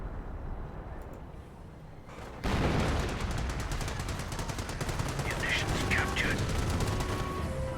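Machine gun fire in Company of Heroes, a garrisoned MG firing rapid, continuous bursts that cut in sharply and stay loud, layered with battle noise and distant explosions.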